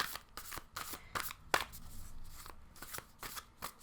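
Tarot cards are shuffled by hand during a group card reading, a close, quick run of crisp riffling bursts with soft rustles between, heard alone.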